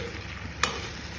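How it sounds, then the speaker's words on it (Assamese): Half a kilo of pork frying with potatoes and tomatoes in a pan on a gas stove, a soft continuous sizzle with one sharp utensil knock during stirring. "কণ বিলাহী আলু গাহৰি ধুনীয়াকৈ ভাজিছোঁ"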